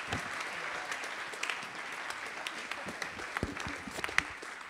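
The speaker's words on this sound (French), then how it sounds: "Je vous demande de l'applaudir, Jean-Michel Billaud" A conference audience at a digital innovation summit applauds a speaker being honoured, a steady, moderately loud clapping crowd with scattered sharper claps and no voices over it.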